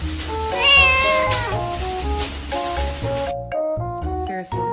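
A pet cat meows several times in quick succession, loud and close, with strained pitch glides over a busy background of other sounds and a short quiet gap near the end.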